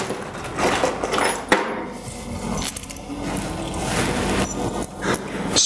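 Metal bolts, spring washers and flat washers are handled and clinked while a trailer axle is fitted to its chassis. The clatter and scraping is close, irregular and fairly loud.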